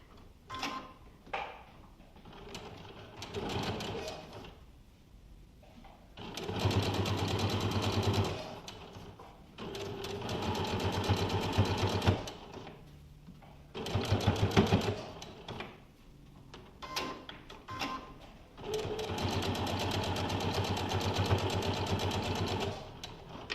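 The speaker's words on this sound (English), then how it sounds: "I'm gonna do one more stitch to get closer." A sewing machine stitching a shirt yoke runs in several long, steady bursts of close mechanical whirring, with short pauses, clicks and handling sounds between runs.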